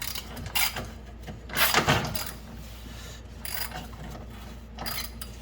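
A hand ratchet clicks in short bursts while loosening or tightening rear coilover bolts on a G35, close and fairly loud, with brief pauses between the runs of ratcheting and no talking.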